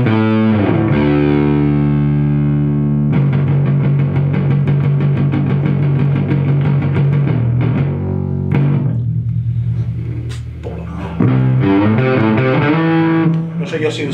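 A bass guitar played through a guitar amplifier set to solo mode gives loud, heavily distorted sustained notes. Busy, rapid picked runs follow, with short gaps and a sharp jump in volume near the end.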